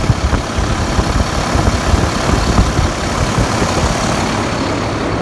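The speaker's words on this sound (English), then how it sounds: "Now we're gonna crank it up and try to start." A heavy International Maxxforce 13 truck diesel engine running loud and close with a steady, dense low rumble, the steady drone of an engine just started after fuel pump replacement.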